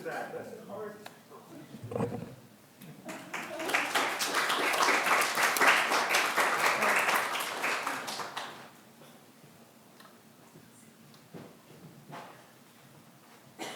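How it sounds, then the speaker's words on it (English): Audience applause at a Chinese-Canadian fiction book event swells after a few seconds, holds as dense clapping for several seconds, then fades to a quiet room with scattered sounds. "let's give him a round of applause"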